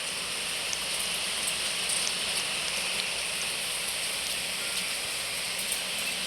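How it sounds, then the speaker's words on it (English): Rain pours in the video game Build a Tower, a steady, dense patter of drops hissing continuously at moderate loudness with occasional sharper taps and no voices over it. "the rain is so loud, so you can maybe even hear it"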